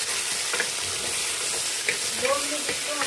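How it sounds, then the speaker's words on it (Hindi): A kilo of mutton browns in a hot pot for Punjabi mutton korma, a steady loud sizzle with occasional scrapes of stirring, close and without talk. "1 किलो हमने मटन ले लिए और इसको हम भून लेंगे।"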